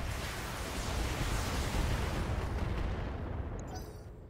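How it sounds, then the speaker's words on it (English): Sustained heavy turret weapon fire in the Battletech mech combat game, a dense rumbling roar of shots and impacts that holds steady and then tapers off, with no talking. "That's from the turrets back there, I think."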